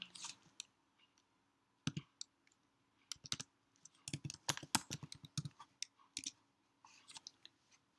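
Someone types a terminal command on a computer keyboard, producing quiet scattered clicks, then a denser burst of keystrokes in the middle and a few final taps.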